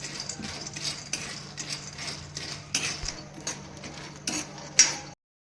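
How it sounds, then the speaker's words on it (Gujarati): Peanuts roasting in a kadai are stirred with a metal spoon, giving repeated scraping clinks and light rattles in an irregular rhythm, close and moderately loud, with no talking. "આપણે કડાઈમાં સિંગદાણા શેકી લઈશું"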